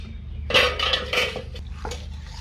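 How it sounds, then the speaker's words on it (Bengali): A spoon clinks and scrapes against a bowl while chili-spiced batter is mixed with a little water, making a few close, irregular metallic taps and stirring sounds over a faint background hum. "এবার সামান্য করে করে জল দিয়ে আমি ব্যাটারটা গুলিয়ে নেব।"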